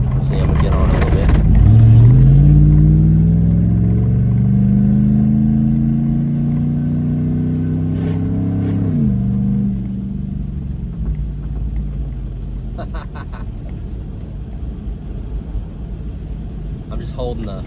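A straight-piped 2008 GMC Yukon Denali with its muffler removed rumbles loudly from inside the cabin, revving up in a rising, throaty sweep before settling back to a deep idle-like drone, with a voice talking over it.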